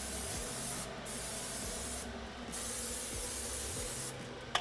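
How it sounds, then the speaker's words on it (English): Cooking spray hissing onto a pan in three short bursts, each about half a second, close and fairly loud against a low kitchen background. "A little bit of cooking spray."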